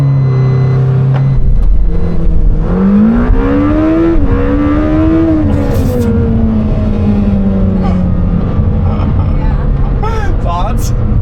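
A Lamborghini Temerario surges through a launch-control start, the engine note climbing hard through rising pitch sweeps with gear changes, loud and close from inside the car, with voices reacting over it.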